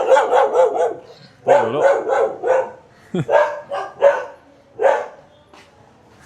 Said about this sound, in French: Je suis chassé par les chiens.